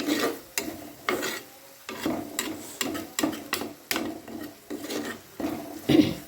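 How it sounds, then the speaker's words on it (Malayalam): Eggs and turmeric powder are whisked together in a bowl, a steady rhythm of scraping stirring strokes repeating about once a second, close and moderately loud with no talking. "നന്നായിട്ട് മിക്സ് ചെയ്ത് കൊടുക്കാം കേട്ടോ."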